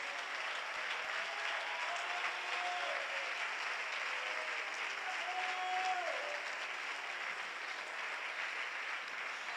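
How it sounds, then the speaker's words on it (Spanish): Church congregation applauding during a Spanish-language sermon, a steady, dense wash of clapping throughout, moderately distant and fairly quiet, with no talking. "¿Alguien puede aplaudir la gloria de Dios?"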